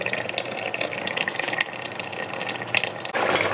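A bowl being washed under running tap water, a steady close splashing stream with a brief stronger gush at the end and no talking.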